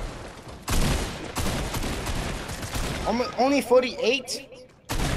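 Rapid gunfire bursts from a Fortnite arena match, loud and close, in clustered volleys, while a player talks over the shooting.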